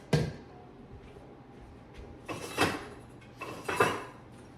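Ingredients for double chocolate sourdough bread being mixed in a bowl, heard as a sharp clink followed by a few scraping, clattering bursts of a utensil against the dish, fairly close and quiet between strokes.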